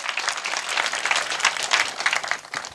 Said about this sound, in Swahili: wapi makofi yake tumpigie makofi